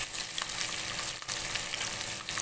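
Ginger, garlic and green chillies sizzle hard in hot oil with cumin, a loud, dense crackle and hiss that runs without pause, with a brief dip near the middle.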